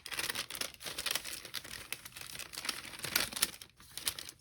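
Vintage airmail paper being handled and crinkled up close, a steady run of crisp rustling and crumpling with brief sharper crackles toward the end and no voices.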